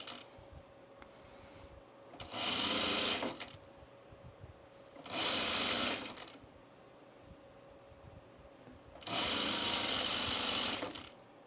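A sewing machine stitches around the perimeter of a dress pocket in three separate bursts of whirring, each lasting one to two seconds, with quiet pauses between them and no talking.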